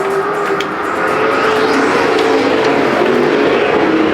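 Stock cars roar past at Perris Auto Speedway during a night heat race, engines loud and continuous, building as the pack sweeps by near the track.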